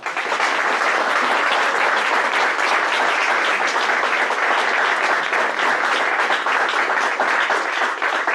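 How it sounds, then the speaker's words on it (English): A Rotary club audience delivers a sustained, loud round of applause to welcome its newest member, the dense clapping staying full and steady from start to finish. "Please welcome her to our club with a round of applause"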